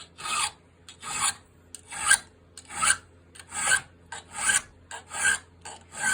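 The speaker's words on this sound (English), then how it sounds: "Then I'm going to get a chainsaw file." A chainsaw file rasps back and forth along a horseshoe nail held in a vise, steady, evenly spaced strokes, about eight gritty scrapes close by with short pauses between them.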